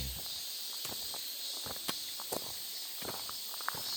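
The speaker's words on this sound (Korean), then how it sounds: "매미들이 어, 가고 있는 여름을 조금이라도 더 찾고 싶어서 난리가 아닙니다." Cicadas drone steadily through a late-summer morning walk, a dense, continuous high-pitched buzz with footsteps crunching intermittently in the foreground.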